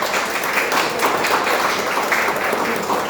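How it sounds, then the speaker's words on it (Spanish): Steady applause from an audience at a book presentation runs throughout, an even wash of many clapping hands at moderate volume. "para ellos merecido el aplauso, por favor"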